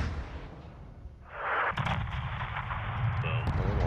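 A missile or 40mm round strikes a gate in the Modern Warfare 2 campaign, a loud sustained blast and roar that swells halfway through and rumbles on with crackling debris, while a player talks over it.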